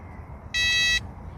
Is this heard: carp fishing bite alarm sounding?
yes